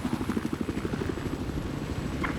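Helicopter in Battlefield 4 multiplayer, a loud, fast, rhythmic rotor chop thumping steadily at close range over a rumbling engine drone, with no talking.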